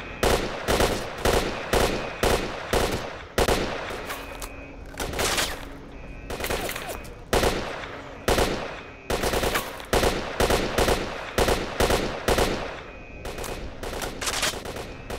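Gunfire in the video game S.T.A.L.K.E.R.: Shadow of Chernobyl, loud repeated bursts and single shots rattling close by throughout, with short pauses between volleys.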